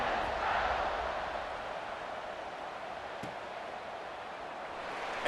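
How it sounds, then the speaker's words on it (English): A broad, steady wash of stadium crowd buzz from the video game EA Sports College Football 26, heard just after a score and the point after, sustained and fairly soft throughout with no distinct shouts. "this crowd is buzzing after that last score"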